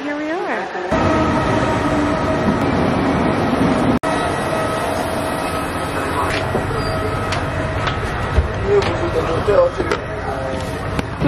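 A train at a Cinque Terre railway station in Italy rumbles and clatters steadily up close, with brief clicks and a sharp knock, while people talk nearby.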